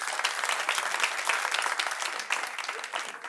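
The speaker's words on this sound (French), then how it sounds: "On l'applaudit pendant qu'il arrive." A studio audience at a French-language talk show claps steadily, a close, dense burst of applause lasting a few seconds before it starts to fade.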